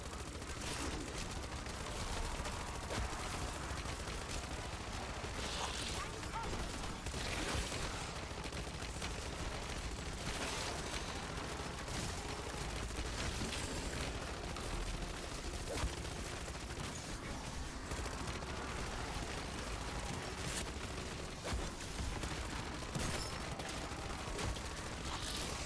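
Call of Duty Modern Warfare Zombies gunfire, dense continuous shooting and explosive rattle blending into a busy, steady wash of game noise without talk.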